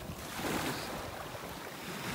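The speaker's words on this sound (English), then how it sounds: "letting people listen to the waves" Ocean waves wash onto a beach at Delnor-Wiggins in North Naples, Florida, as a faint, steady surf rush mixed with wind noise against the microphone, with no one speaking.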